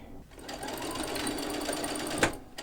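A sewing machine runs steadily, stitching a bias strip onto a dress, its whirring motor holding a continuous close hum with a small bump near the end.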